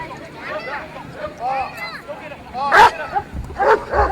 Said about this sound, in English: we're going to bring out a police dog